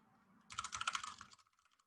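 Quick burst of computer keyboard typing, a rapid run of clicky keystrokes for about a second, close and fairly quiet, then a few scattered taps fading out.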